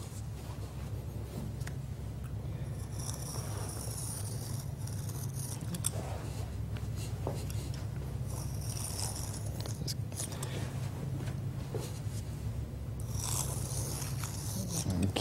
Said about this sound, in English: it'd be very easy for an installer just to come and trace cut these out just like this